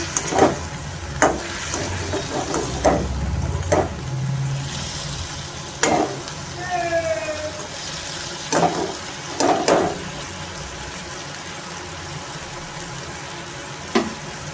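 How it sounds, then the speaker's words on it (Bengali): Prawns frying in a hot pan with turmeric, a steady close sizzle broken by repeated sharp clacks and scrapes of a spatula, with a few louder bursts of spitting oil. "চিংড়ি মাছ সুন্দর করে ভেজে নেব।"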